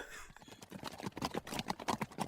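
Horse hooves clip-clop in quick, uneven beats that grow denser and louder toward the end, as if the animals are approaching, with no talking.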